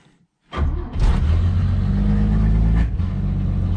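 A 1957 Chevy engine cranks and catches after a short silence, then revs hard once and settles into a loud, steady, rumbling idle with a slight dip near the end.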